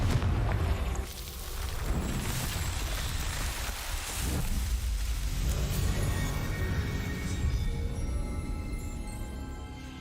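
A Confringo blasting spell explosion in Hogwarts Legacy, a loud booming blast that rumbles on as sustained roaring noise, with a second burst a few seconds in, and no voices.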